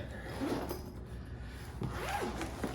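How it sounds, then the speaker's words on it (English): A dual head zipper on an EV extension cable carrying bag is pulled open in two quick drags, close and fairly soft, with a brief pause between them. "Dual head zipper."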